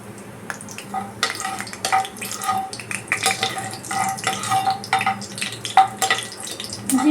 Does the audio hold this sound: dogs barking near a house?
no